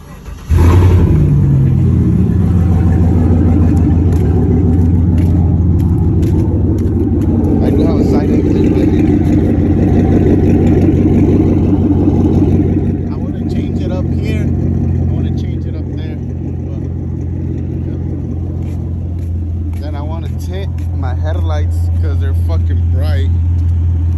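A vehicle engine starts and idles with a steady low rumble, then revs up and settles back several times, loud and close; a person talks over it at points.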